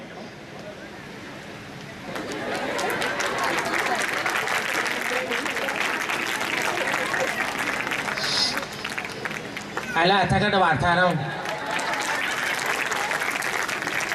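Loud, sustained applause from an audience at a CBSE school event greets a mimicry performer, a dense crowd of clapping hands that swells in and holds steady, with a voice briefly speaking over it near the end.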